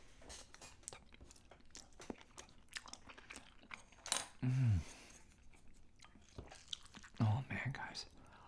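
Crunchy bites and chewing of homemade smoked bacon cheddar mac and cheese with a crispy top, close and soft, with two louder bursts partway through and quiet whispered talk in between.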